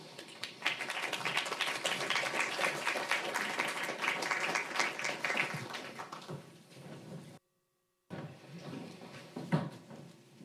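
Sustained audience applause after presentations at a talk, dense steady clapping for several seconds that thins out and fades, then a brief gap and a few scattered claps.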